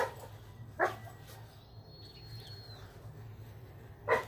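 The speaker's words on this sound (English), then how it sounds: "I don't know why my dogs are barking at me." Dogs in a home bark in two short, sharp bursts, one early and one near the end, separated by quiet room hum. The barks are moderately near.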